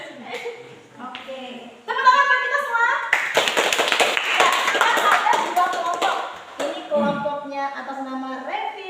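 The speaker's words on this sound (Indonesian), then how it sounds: "tepuk tangan buat kita semua." A classroom group claps together in a short burst of rapid, uneven hand claps, set between stretches of a teacher talking with children and some chuckling.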